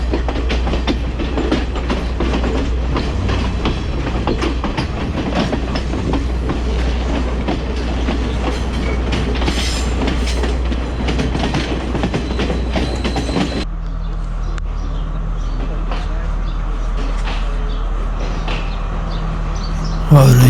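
A passenger train on the scenic line through Sri Lanka toward Ella rumbles and rattles steadily from inside the carriage, its carriage noise shifting partway through and continuing at a lower, steadier level.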